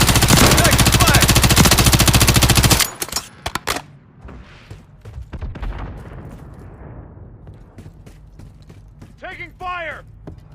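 Video game gunfire from being shot at opens with a loud, sustained burst of rapid automatic fire, then breaks into scattered individual shots and clatter, with a voice speaking near the end.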